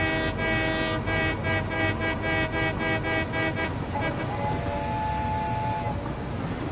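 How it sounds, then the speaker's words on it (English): Steam whistle of a train in the game Satisfactory, sounding as a series of rhythmic pulsed toots over rumbling rail noise, followed by a brief sustained tone as the train rolls on, loud and close. "There's a chance if you do the whistle, it does the steam whistle."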